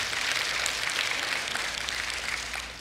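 A church congregation applauding the Lord during a sermon, dense sustained clapping from many hands, steady and fairly distant in a large room, tapering slightly at the end without speech.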